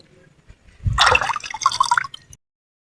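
Tap water splashes and drips into a tank in two close bursts lasting about a second and a half, bright and wet at close range, with no voices.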